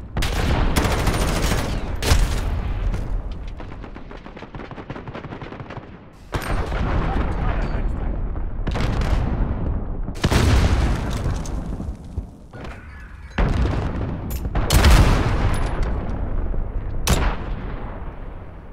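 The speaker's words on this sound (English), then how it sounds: "Enemy cruise missile incoming." Loud bursts of gunfire and heavy booming explosions from a video game come in repeated waves, with short quieter gaps between blasts. The explosions are from enemy cruise missiles.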